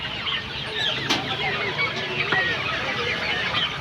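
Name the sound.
Fayoumi fancy hens and chicks clucking at a market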